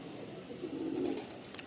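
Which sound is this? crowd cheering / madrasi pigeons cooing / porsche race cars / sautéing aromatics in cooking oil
madrasi pigeons cooing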